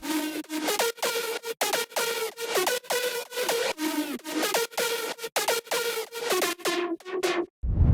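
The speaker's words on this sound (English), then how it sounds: "pitch bends, reverb, and even some filter and phase automation using Serum effects." A loud, bright Serum synth lead in a melodic bass house track runs through a rhythmic pattern of punchy notes that swoop and bend in pitch, with filter and phaser movement and tails washing into reverb near the end.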